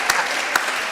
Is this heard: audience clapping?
yes